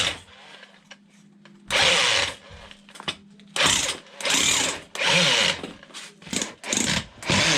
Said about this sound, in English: One problem with rotary hammers, there's no reverse.